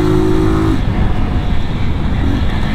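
Honda Titan 160 motorcycle being ridden, its engine droning steadily and close throughout with a brief higher engine tone early on, no talk over it.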